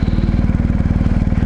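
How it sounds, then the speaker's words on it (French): A BMW 1250 GS motorcycle engine revs steadily up close, a loud throbbing low rumble with rapid even firing pulses that hold constant throughout. "je fais ronfler le moteur"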